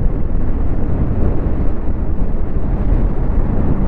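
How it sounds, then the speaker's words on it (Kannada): Heavy wind buffets the microphone while riding a TVS iQube electric scooter at speed, a loud continuous low roar with no motor sound standing out. "ಈಗ ವಿಂಡ್ ಬ್ಲಾಸ್ಟ್ ಆಗ್ತಿದೆ"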